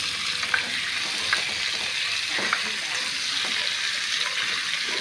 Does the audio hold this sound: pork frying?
yes